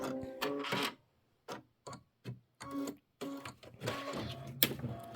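A home embroidery machine stitches a plaid pumpkin quilt block in rapid mechanical bursts of needle ticking. The runs are separated by short pauses, heard close up with no talk.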